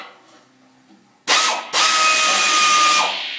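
A power tool backs an engine bolt out of a Ford 289 V8 during a rebuild: a loud, close whirring burst starts, breaks off for a moment, then runs steadily for over a second before slowing.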